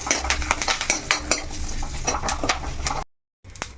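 Salted dosa batter is stirred by hand in a bowl: close, rhythmic wet scraping and clicking strokes repeat steadily, then cut to a brief silence before the stirring resumes, with no speech.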